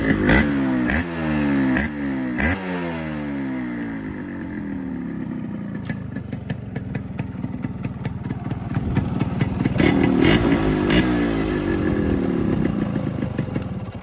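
Yamaha RX100 two-stroke motorcycle fitted with a quick throttle, revved in sharp bursts at the start, then settling into a steady idle with rising and falling throttle blips, close and loud with no talking.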